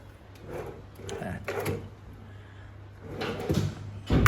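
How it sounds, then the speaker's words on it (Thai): A drawer in a holiday rental room is pulled open and handled, giving a run of wooden sliding scrapes, bumps and light rattles in irregular bursts, ending in a louder knock. "ลิ้นชักไม่รู้เปิดได้ทุกจุดไหม"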